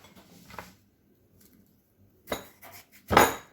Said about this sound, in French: Après, je vais les couper en morceaux.